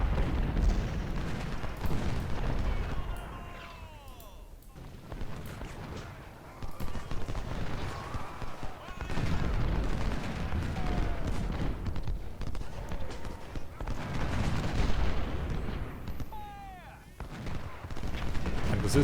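Artillery fire in Ultimate General: Civil War at the First Battle of Bull Run: repeated booming shots and crackling gunfire arriving in irregular bursts over a noisy battle backdrop, with someone talking throughout.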